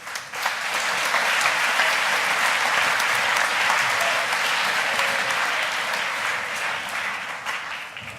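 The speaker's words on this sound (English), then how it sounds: "Let's give a round of applause for Marcus Whitney." A large audience applauds a keynote speaker at Montgomery Bell Academy, with sustained, dense clapping that holds steady and close at full strength for about eight seconds before easing slightly at the end.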